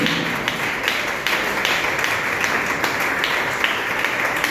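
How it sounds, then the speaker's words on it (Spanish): A church congregation applauds steadily, a dense wash of clapping that carries on throughout at an even, fairly loud level. "Aplausos para el Señor."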